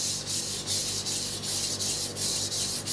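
A knife sharpened on a Japanese whetstone gives a steady, hissing rasp of repeated back-and-forth strokes, about eight regular passes close by and fairly loud, with no talking.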